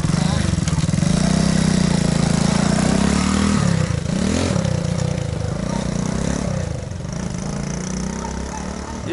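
A motorbike tricycle engine runs in a rough, loud, continuous chug out in a vegetable garden, its pitch dipping and rising slightly as people talk nearby.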